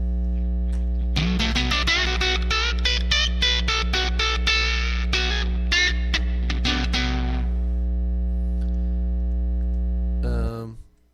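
Electric guitar through a Line 6 Pod HD500 modelling a Fender Twin Reverb on its normal channel, a quick run of plucked notes over a loud steady mains hum, then the playing stops while the hum continues.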